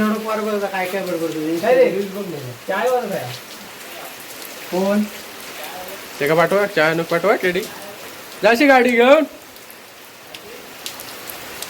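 Heavy rain pours steadily during an outdoor cricket game in Konkan, a constant close hiss of downpour, while people talk and call out over it at intervals.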